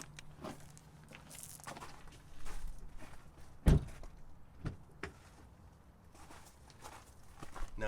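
The door of an Audi/VW 2.0T car is opened and shut, a sharp thunk standing out midway amid soft shuffling footsteps, faint clicks and light handling noises nearby.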